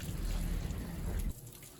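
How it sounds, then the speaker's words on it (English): Warm tap water rushes steadily over fruits and vegetables at a kitchen sink, a loud, close, broadband splashing that drops abruptly to a quieter trickle near the end. "So we're just gonna rinse under warm water our fruits and vegetables."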